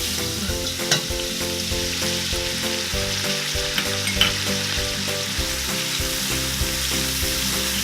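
Leeks sizzling in melted butter in a pot over medium-high heat, a steady, close crackle and hiss with occasional stirring knocks and a low hum underneath, no talking.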